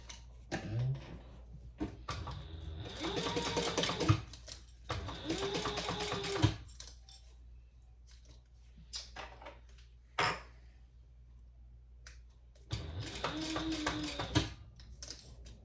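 A sewing machine top stitching a wallet runs in three clear bursts of rapid, even stitching, each a couple of seconds long, separated by quiet pauses with small clicks and handling noises.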